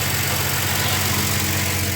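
Exhaust of a car's 318 V8 engine at idle, a steady low rumbling throb heard close up for two seconds, with no voices.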